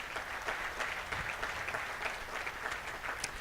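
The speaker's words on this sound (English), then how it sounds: "Let's give them a round of applause, please." A community event audience applauds its foundation sponsors, the clapping faint and distant as a steady, even patter with no voices.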